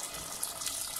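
Boiled water pours steadily onto sautéed onions in a pot for Turkish tarhana soup, a continuous close hiss and splash of liquid with no talking.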